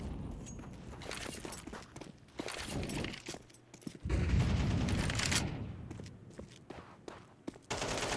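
Rapid gunfire bursts and grenade blasts from a Counter-Strike 2 match, with clustered shots and sharp impacts that swell into a dense, louder barrage midway before tapering into scattered shots.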